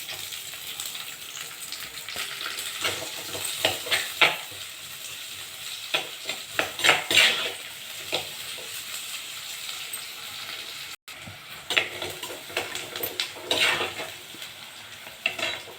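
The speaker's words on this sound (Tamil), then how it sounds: "வெங்காயம் வதங்கிடுச்சு." Onions sauté in oil in a pan for chicken gravy, a steady close sizzle with scraping stirs and soft clinks of a utensil against the pan, with no talking.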